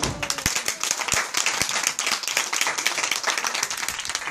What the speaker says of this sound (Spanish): ¡Aplaude conmigo!